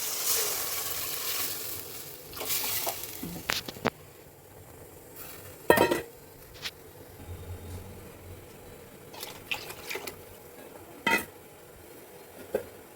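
Tomatoes sizzling in a pan for a kuzhambu with a soft frying hiss underneath, broken by irregular clanks and scrapes of a utensil against the pan, with no voices.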